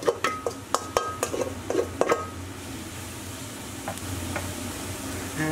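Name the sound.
herbs sizzling in hot oil in a pan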